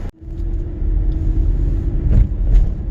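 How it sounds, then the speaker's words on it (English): Road traffic rolls past in a steady, continuous rumble of car engines, fairly close, with one vehicle swelling louder near the end. "Now there's the traffic jam."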